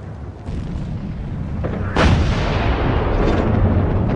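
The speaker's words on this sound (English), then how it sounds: "Then there was another explosion, and another one." Wartime artillery fire and explosions in the opening days of the First World War, a steady rumbling barrage with a sharp, loud blast at about two seconds, then sustained heavy booming with no voices.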